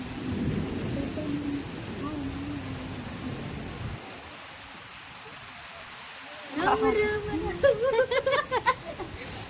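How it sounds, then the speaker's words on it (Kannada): Thunder rumbles low and distant over steady rain at the start of Bangalore's first monsoon shower, drops away into near quiet, then returns as sharper, louder cracks and pattering toward the end, with voices faint in the background. "ಮಳೆ ಸ್ಟಾರ್ಟ್"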